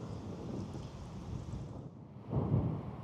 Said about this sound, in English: Bit of rain coming in sideways now as well.